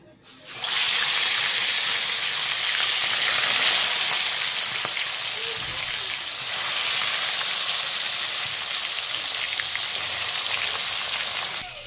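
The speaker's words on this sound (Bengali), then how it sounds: "চলো ফার্স্টে এই মাছটা ভাজা নি মাছগুলা সব এবার ভাজা নি" Fish pieces fry in hot oil for a fish-head curry meal, a loud, dense, continuous sizzle that starts abruptly and holds steady, close by, with no talk.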